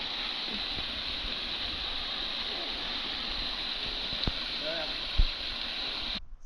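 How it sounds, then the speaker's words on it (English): A waterfall pours down a cliff at Keep River, making a steady broadband rushing roar that stays constant throughout. A couple of brief knocks sound over it. "So there's the waterfall coming down the cliff"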